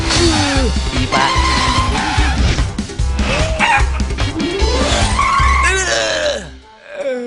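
A car brakes suddenly, its tires squealing in several sharp, loud screeches over a busy mix of voices and effects, ending in a brief quiet.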